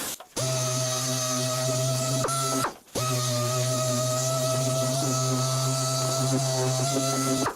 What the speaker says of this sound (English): we're going to use an orbital sander because we're not concerned about this being straight